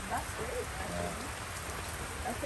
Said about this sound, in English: it's been raining since like last night